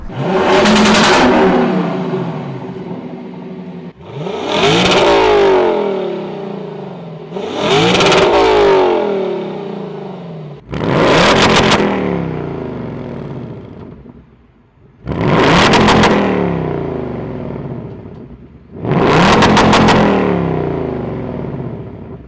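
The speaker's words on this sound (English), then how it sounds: "So other than it just being loud and sounding good because it's a V8, there's nothing that special with this exhaust." A 2024 Ford Mustang Dark Horse V8 revs loudly through its exhaust in six separate bursts, each rising sharply and then falling away, with short gaps between them and no talk.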